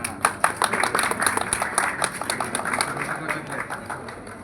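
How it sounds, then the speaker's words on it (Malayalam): Clapping from a crowd at a stage event, a steady rhythmic patter of many hands that runs the whole time under a host's loud voice urging people on. "കൈയടിച്ചോ കൈയടിച്ചോ."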